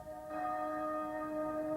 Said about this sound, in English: the bells of Hobart that have tolled for everyone this week rang also today